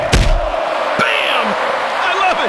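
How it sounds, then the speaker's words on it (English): A crowd roars and cheers in the WWE Mayhem wrestling game, a steady, loud swell that runs under shouting and sharp slams from the ring. "The crowd loves it!"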